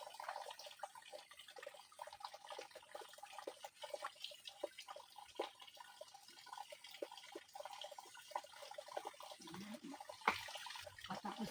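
Steady running and trickling water with scattered drips and small splashes during a solo bath at a well, continuous and fairly close, with no talking.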